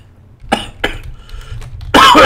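Two sharp coughs a moment apart, then faint murmuring and a louder burst of noise at the end.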